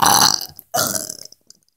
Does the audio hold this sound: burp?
yes